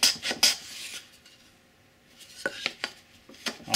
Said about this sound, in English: Cut my little chamfer until I come right to that line.